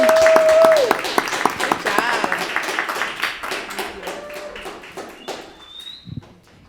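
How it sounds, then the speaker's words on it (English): Audience at a summer business accelerator's final presentations breaks into applause, a burst of clapping that thins out into scattered claps while a presenter keeps talking over it. "Another round of applause for Megan."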